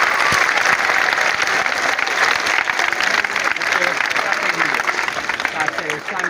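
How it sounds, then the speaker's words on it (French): A crowd applauds loudly for a school government at an environment day launch, with sustained dense clapping and voices talking and calling out through it. "Il faut les applaudir très fort. Le gouvernement, applaudissez vous-même."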